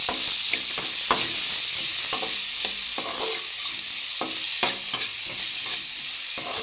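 Tomatoes fry in a pan for a drumstick curry, a steady close sizzle and hiss broken by repeated scraping stirs of a spoon, with no talking.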